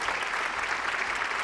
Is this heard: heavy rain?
no